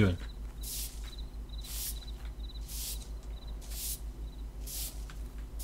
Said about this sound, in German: Pferd striegeln